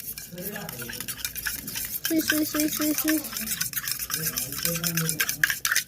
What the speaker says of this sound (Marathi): आता साखर पूर्ण हलवून झाली, आता मी हे पिणार